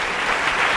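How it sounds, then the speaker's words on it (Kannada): An audience at a live Kannada comedy show breaks into a brief burst of dense, steady clapping that fills the hall. "ಒಂದು ಚಪ್ಪಾಳೆ ಆ ಸಂಸ್ಥೆಗೋಸ್ಕರ."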